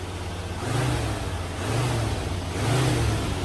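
A 1986 Pontiac Bonneville engine revs loudly and close up in three rising and falling swells over a steady idle, with no talking.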